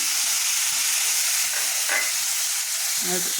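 Spice powders such as turmeric and coriander fry in oil in a pan for Tamil kuzhambu, giving a steady close sizzle with a few brief stirring scrapes.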